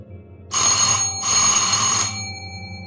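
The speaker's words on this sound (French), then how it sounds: "Puis, quelqu'un commence à sonner à la porte en bas." An electric bell ringing in two long bursts with a short gap between them, loud and shrill, sounding from the front door downstairs of a house.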